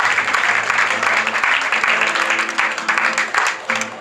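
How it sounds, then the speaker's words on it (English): A live audience at a mentalist stage show gives a warm, steady round of applause for a volunteer, with dense, continuous clapping throughout, a faint voice underneath and soft background music tones. "Warm round of applause."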